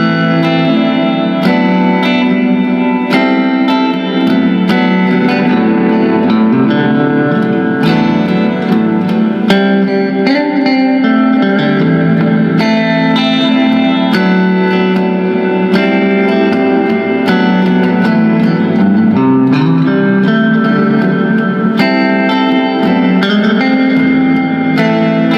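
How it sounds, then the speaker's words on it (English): Guitar played through a Biyang Tri-verb pedal on its Hall reverb setting: loud, continuous chords and notes wash into a long, slow-decaying reverberant tail that fills the whole passage. "So this is what the Hall setting sounds like."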